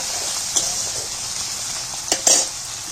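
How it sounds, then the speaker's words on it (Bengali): Small-cut chopped tomatoes fry in a pan with a steady close sizzle, broken by a few sharp scrapes and clinks of stirring. "টমেটোটাকে একটু ভেজে নেবো, তাহলে কাঁচা গন্ধটা চলে যাবে।"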